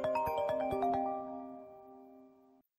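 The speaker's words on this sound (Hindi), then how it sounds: "अच्छा रुक, एक कॉल आ रहा है।" A bright electronic ringtone plays a quick run of chiming notes, then holds a sustained chord that rings out and stops abruptly.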